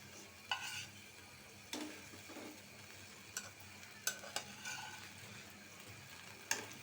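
Katla fish heads fry in a pan with a faint, steady sizzle, broken by a few sharp clinks and scrapes of stirring spread across the stretch. No voices.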